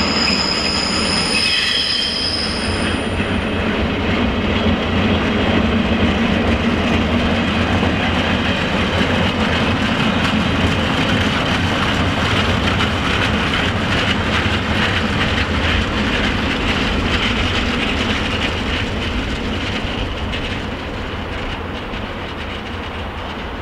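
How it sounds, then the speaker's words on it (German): A train on the rail line at Gemünden am Main rolls past close by, loud and steady for about twenty seconds with squealing wheels and a rumbling, rattling body, easing slightly toward the end. "Und jetzt muss ich zum Zug gucken."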